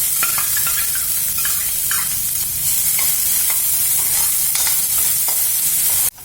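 Finely chopped onion sizzling loudly in hot oil in a kadai for raw jackfruit curry, a dense continuous crackle with scattered pops and stirring scrapes, close and alone, cutting off abruptly at the end.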